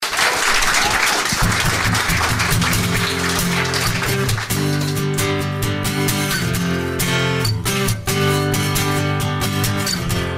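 Live radio studio audience applauding a rock band, with loud, dense, sustained clapping throughout as instruments begin tuning and playing underneath.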